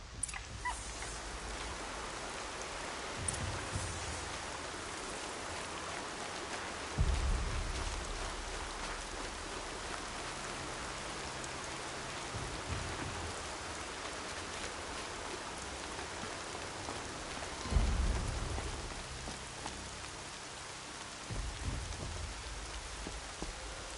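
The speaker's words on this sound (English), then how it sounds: "Everything's sharp and looming in the rain." Steady rain falls in a continuous, quiet hiss with a pattering texture, broken by two dull low thumps like distant rumbles, with no voices.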